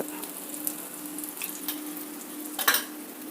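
Dosa batter fries in oil on an iron tawa with a continuous moderate sizzle, scattered crackles and a brief louder spatter burst near the end, and no talking.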